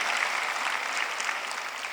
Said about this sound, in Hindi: आप अपने आशीर्वाद पे ताली बजा रहे हैं क्या?